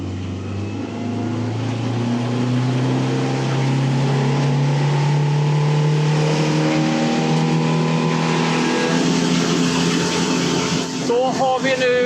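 A Hidea 60 hp EFI outboard motor, fully broken in, runs at full throttle on a boat, a loud steady close drone with the pitch slowly climbing as it reaches top speed, and water rushing underneath.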